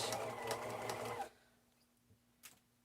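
Sewing machine running a back stitch on a satchel, a close, busy mechanical whir for about a second before it stops, followed by near quiet and a faint click.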